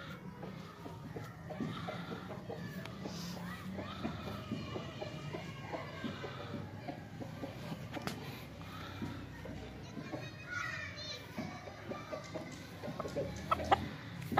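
Aseel chickens cluck repeatedly at close range with a rooster among them, over a busy background of voices and scattered farmyard noise.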